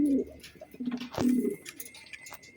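Budapest and racer pigeons coo nearby in a few soft, rolling calls, close and moderately loud, with no talk.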